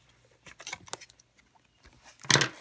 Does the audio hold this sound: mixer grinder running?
no